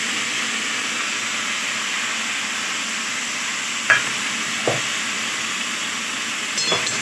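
Spices and tomato being stirred and fried in a pan, a steady sizzling hiss throughout with a few brief scraping clinks of the spoon, close and fairly loud, no talking.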